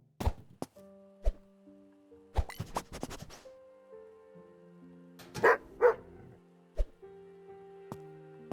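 A dog barks in the Airport Baggage Simulator video game, with sharp isolated yips and thuds spaced apart among tonal game beeps and chimes, a louder pair of barks midway, no talk.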